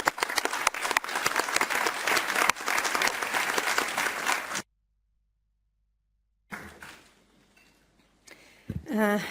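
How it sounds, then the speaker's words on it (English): Audience applause at a European Economic and Social Committee plenary session, a full, steady burst of many hands clapping that cuts off abruptly, followed by quieter room noise and shuffling. "please give her a good round of applause"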